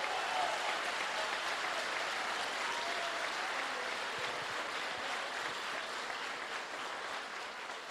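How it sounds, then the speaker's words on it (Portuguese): A church congregation applauds the Lord in a broad, continuous roar of clapping that fills the room evenly and tapers off only slightly toward the end. "Aplauda o Senhor"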